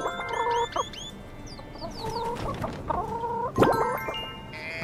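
Chickens in the video game My Time at Sandrock clucking and squawking in short repeated bursts, clear and close over a soft background bed, with no talk.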